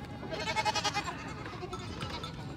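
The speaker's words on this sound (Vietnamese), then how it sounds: "Hình như là có hai con dê đực sao ấy." Several goats on a large mountain goat farm bleat in quick, wavering bursts, fairly close but moderately quiet, with a second shorter cry near the end.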